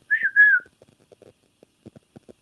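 Pet birds whistling indoors, two bright rising-and-falling whistle notes close by at the start, followed by faint scattered taps and small sounds.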